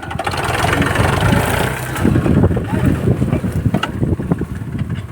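A tractor engine runs loud and close during mustard threshing, a rough low rumble with rising and falling revs, mixed with wind buffeting on the microphone and some voices in the background.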